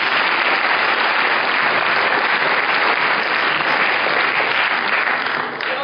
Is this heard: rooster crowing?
no